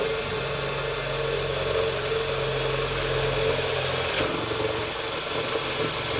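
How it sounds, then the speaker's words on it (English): A power drill whines steadily while drilling through a cab mount plate on a Ford F250 truck, a continuous droning buzz that holds without pause. "I'm going to be drilling through."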